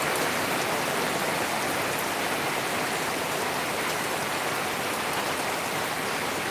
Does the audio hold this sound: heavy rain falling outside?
yes